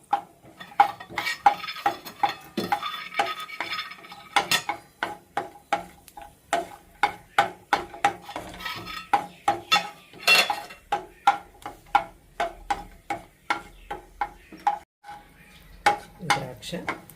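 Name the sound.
cashews frying and being stirred in a pan on low flame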